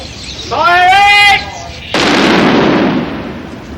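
A small explosive charge blows apart a bomb's circuit as a sharp, loud blast with a noisy rushing tail that fades, after a voice with a rising, whistling tone.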